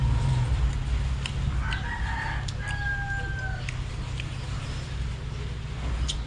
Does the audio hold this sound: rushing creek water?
no